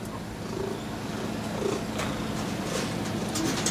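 A cat on a verandah purrs in a low, continuous rumble, fairly close and steady, with faint background noise and no talking.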